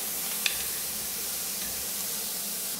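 Steady sizzling from celery frying in a pan, with a faint scrape or two as it is stirred.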